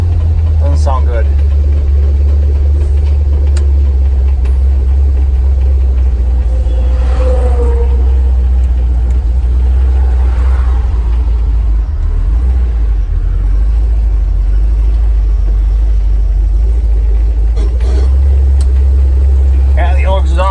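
A Chevrolet S10 engine idles with a heavy, continuous low exhaust rumble from a low, worn exhaust for about twenty seconds, loud and close, while someone speaks over it.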